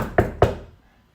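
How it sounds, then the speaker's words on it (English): Two sharp knocks on a wooden door, evenly spaced about a quarter second apart, close and distinct with a short decay and no talking. "She knocked at the door."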